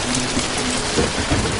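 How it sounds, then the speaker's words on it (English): Heavy rain pouring down over mountains above a river valley, a steady dense wash of sound with no break, loud and close, with no voices. "Rain poured down on the mountains above the valley."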